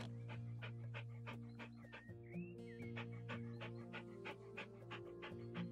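Dog in the House Flipper video game, rapid rhythmic panting over a steady low hum, with a faint squeaky whimper-like sound midway, quiet and close.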